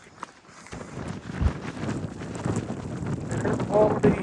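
Wind buffets the microphone on Mount Washington in the White Mountains, a steady rough rumble that swells and gusts louder toward the end, with faint voices in the background.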